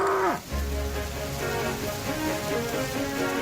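Steady rain falls with a dense, even hiss in an animated steam-engine story, filling the whole clip after a brief descending tone at the start.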